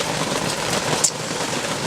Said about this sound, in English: it's raining. I got a hole in my tent. I got a bucket over here catching water.